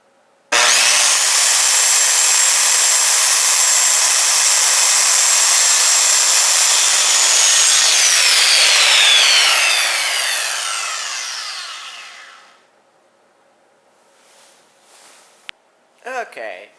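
A power saw cuts through wood boards for splicing while building a raised garden bed from pallet wood and dimensional lumber: one long, loud, steady whine that fades as the cut finishes, followed by brief handling noises.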